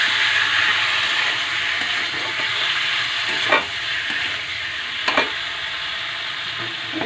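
Meat frying and sizzling in a pan of spice paste as it is stirred and sautéed in Bengali home cooking, a steady hiss with a couple of louder scraping stirs.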